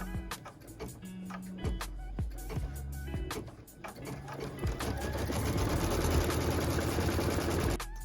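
An embroidery machine stitches a placement line on a quilt block, starting with clicks and stepping motor tones before settling into a steady, close mechanical whir.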